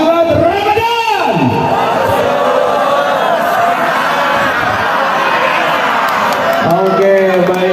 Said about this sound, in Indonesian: Siap, keluarkan suaranya yang paling lantang.